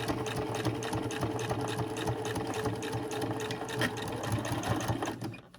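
A sewing machine stitches along a backpack zipper, running steadily and continuously at close range with a busy mechanical hum that cuts off abruptly at the end, with no talking.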